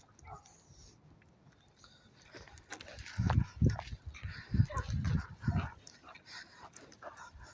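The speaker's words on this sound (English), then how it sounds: "right outside the co-op there's a dog barking" A dog barks several times in a burst of loud, gruff woofs, somewhat distant outdoors, after a quiet stretch.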